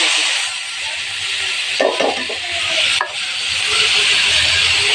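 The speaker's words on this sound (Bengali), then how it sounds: "তেলটা গরম হয়ে গেছে, চুলার আঁচটা একবারে বাড়িয়ে মাছগুলো ছেড়ে দিব।" Fish dropped into hot oil in a wok over a high flame: a loud, steady sizzling hiss, broken by two brief clatters as the pieces go in, then the frying continues evenly.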